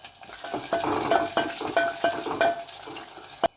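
Onion hitting hot oil with garlic and curry leaves for a drumstick sambar, a close sizzle with rhythmic stirring scrapes and a sharp clank of the pan at the end.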